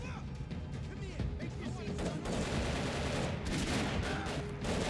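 Gunfire fills a Max Payne 3 video game shootout: dense, rapid shots in overlapping bursts, loud and continuous, with no voices over them.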